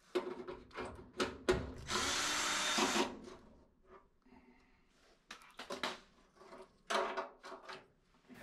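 A power drill spins out the screws holding a dryer thermistor in short bursts, close and moderately loud, with one longer whir among several quick zips and clicks.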